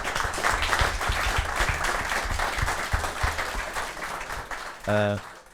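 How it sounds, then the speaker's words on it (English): An audience at a panel discussion launch event applauds the panelists with dense, steady clapping. Near the end, a single voice briefly rises over the fading applause. "Let's give a round of applause to Chris, Ryan, and Matt again"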